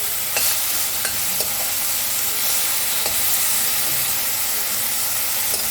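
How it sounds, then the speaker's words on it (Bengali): Prawns sizzle and hiss in hot oil in a wok, with steady frying crackle and occasional sharp pops from stirring, loud and close with no talking. "চিংড়ি মাছের মাথাটাকে ভেজে নিয়েছি, তারপর চিংড়ি মাছটা দিয়েছি"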